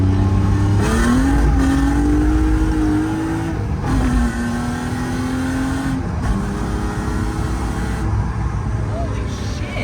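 A stiffened BMW E36 Compact accelerates hard, its engine loud and close, pitch climbing in long pulls with breaks between gears as it pushes on.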